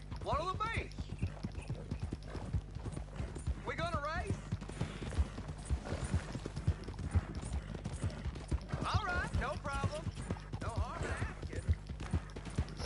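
Steady galloping hoofbeats from a horse in Red Dead Redemption 2 run throughout, with someone speaking in short bursts over the rhythm.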